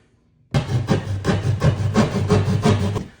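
Hand saw cutting through a wall for a media room speaker cutout, a sudden start followed by about eight rhythmic rasping strokes, close and steady, ending abruptly.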